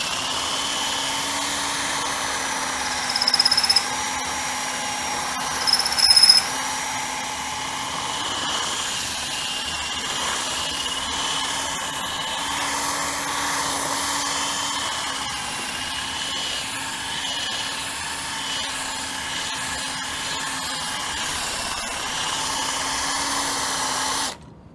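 A drill spins a paddle tool scrubbing the inside of a carboy, a steady unbroken whirring hum that runs the whole time with a couple of brief louder bumps early on.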